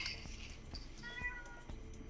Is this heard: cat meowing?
yes